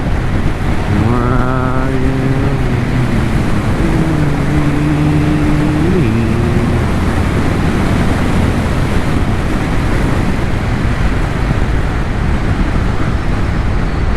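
A track motorcycle engine drops through downshifts, its pitch stepping down in the first half under a loud, constant rush of wind, then fading into the wind roar.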